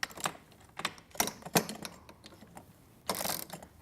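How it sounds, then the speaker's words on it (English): An Allen wrench turned to tighten a Konnector fitting on a Pilates Studio Reformer with wooden risers, giving close irregular metallic clicks and ratcheting rattles in short bursts. "I'm just going to quickly switch so that I have more leverage by using the short end of the Allen wrench."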